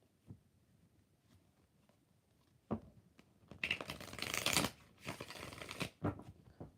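A deck of tarot cards is shuffled by hand in a few bursts of riffling and flapping, close and fairly crisp, with quiet gaps between the shuffles and no one speaking.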